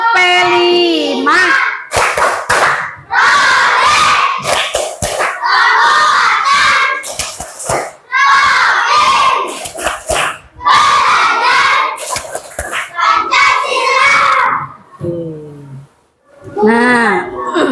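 A classroom of children performs the tepuk P5 clapping chant in bursts of loud shouted chanting. Sharp clap clusters punctuate the chant, with brief pauses between phrases and a teacher's voice near the end.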